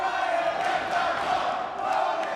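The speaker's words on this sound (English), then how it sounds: "They're cheering for the Lotus Triad," Crowd cheering for a fighter team called the Lotus Triad at a competitive match, a steady dense roar of many voices that holds evenly throughout.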